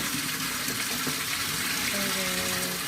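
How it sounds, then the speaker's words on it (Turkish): Water being poured out while an aquarium is cleaned, a steady close gushing splash that runs the whole time without a break, with a faint voice under it. "Şimdi suyu döküyorum."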